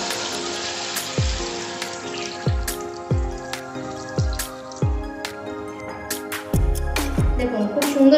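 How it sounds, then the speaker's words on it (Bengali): Water added to a pot of gondhoraj chicken curry with potatoes, heard as a run of splashy drips and plops of liquid hitting the simmering pot, close and fairly quiet, ending in a louder pouring splash. "ফাইনালি এবার জলটা আমি দিয়ে দিচ্ছি।"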